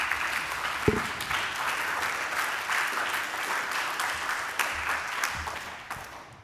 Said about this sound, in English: we look forward to those waves of applause